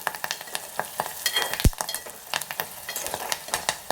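Brinjal tomato curry fries in a pan, with soft sizzling broken by frequent clicks and scrapes of stirring, including one sharp knock.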